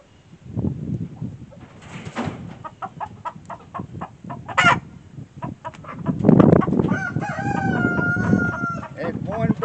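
A big backyard rooster of American Breese stock, marked by a single black feather, crows loudly and close by among clucks and calls from other chickens, with a longer drawn-out crow near the end.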